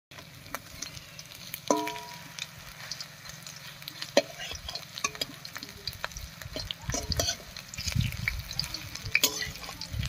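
Drumstick leaf fritters frying in hot mustard oil in a karai, with a low bubbling sizzle broken by scattered clinks, taps and stirring sounds, moderately quiet, no talk.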